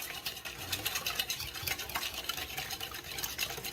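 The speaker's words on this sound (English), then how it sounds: "I'm not using an electric mixer because I don't want it to get more air than I need to have." Eggs and cardamom powder are whisked by hand in a bowl, a steady scraping, swishing rhythm of utensil against the sides, quiet and close with no talking.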